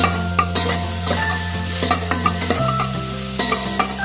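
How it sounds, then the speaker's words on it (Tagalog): Garlic frying and being stirred in a pan: a steady sizzle with repeated scraping and clinking stirring strokes, near and fairly loud, with no talking. "Tatlong buti lang ginamit natin bawang dito. Halu-haluin lang natin ito ng konti."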